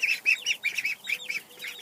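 Young Pekin ducklings and chicks in a brooder give high, rapid peeping calls in quick repeated bursts, close but fairly soft, with no talk.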